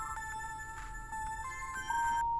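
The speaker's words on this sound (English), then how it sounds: "This is my old cell phone. The one I got rid of a few weeks ago. And it's ringing." Old cell phone ringing in the video game The Charnel House Trilogy, a repeated electronic ringtone of steady tones pulsing continuously and cutting off near the end, no talk.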